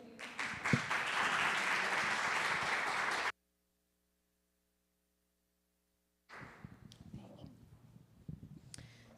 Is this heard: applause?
yes